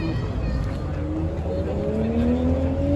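A car engine roars past with a rising, sweeping pitch, steady and fairly loud over a rumbling background.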